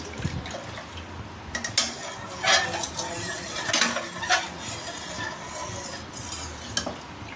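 Milk boils in a pot for bread rasmalai while a spoon stirs it, with soft bubbling and irregular scraping clinks of metal against the pot, fairly close and moderately quiet.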